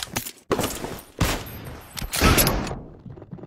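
Gunfire in the mobile shooter BGMI comes as loud, close rapid bursts of automatic shots separated by short pauses, with the final burst trailing off into quiet.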